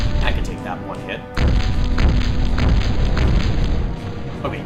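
Explosions in the combat game Battlezone '98, loud booming blasts across a dense battle mix, with a sharp dip then a sustained roar of impact noise.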